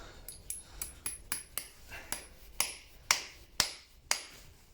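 Steel horseshoe nails are hammered into the hoof wall of a racehorse, about ten sharp metallic strikes in a steady rhythm that grow louder toward the end, close and alone.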